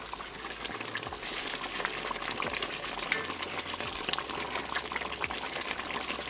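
Potato and sweet pea curry is stirred in a pot after simmering on medium heat, giving a steady bubbling, scraping sound with faint clinks of the spoon over continuous background noise and no talking.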